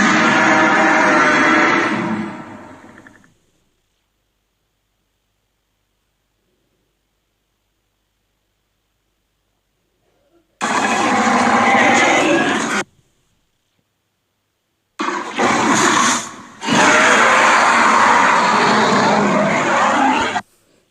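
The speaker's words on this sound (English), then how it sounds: "How does that sound like a velociraptor?" A velociraptor sound effect from Jurassic World plays as loud, harsh shrieks: one burst about three seconds long, then silence, then a two-second screech, then a longer cry broken by a brief gap.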